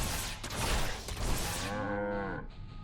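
A flame cow in StarCraft II lets out a deep, drawn-out moo with a falling pitch that fades near the end, set against a dense backdrop of game noise.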